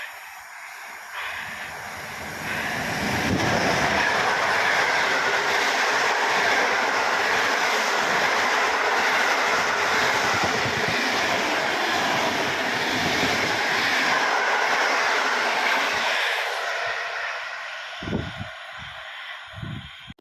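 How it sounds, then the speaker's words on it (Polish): An ED161 electric train running as an Intercity Laguna service passes through Gdynia station with a loud, sustained roar that swells quickly, holds for over ten seconds and then fades, leaving a few low thumps at the end. No one speaks. "Jedzie ED161 z pociągiem Intercity Laguna."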